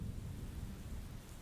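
Heavy rain and thunder in the horror video game Stillwater: a dense, continuous roar of downpour with deep low rumbling underneath, steady and loud throughout.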